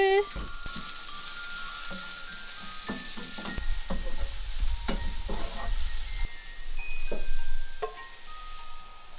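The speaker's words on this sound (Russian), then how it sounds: "Теперь морковь пожарим." Carrots sizzle and fry in a pan while being made into bibimbap, with a steady hiss broken by repeated stirring scrapes and clinks of the utensil, close and moderately loud throughout.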